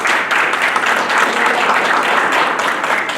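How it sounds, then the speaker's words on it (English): Applause for a school staff member fills a room in a steady, dense wash of clapping from a sizable group, held at an even level throughout. "maybe this is the first time that we can give her a wee round of applause"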